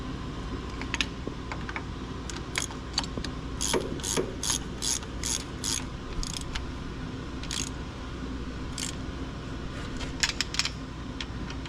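Ratchet wrench turning a bolt on a starter being fitted to a front-wheel-drive Dodge race car, producing bursts of quick close clicks separated by pauses over a low steady background, with no talking.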